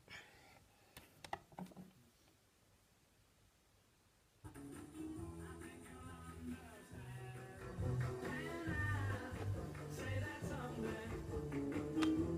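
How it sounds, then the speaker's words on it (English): A few faint clicks and crackles from a vinyl record, then a pause before music starts playing quietly with a soft, steady surface hiss. "you can hear there's a few crackles at the start"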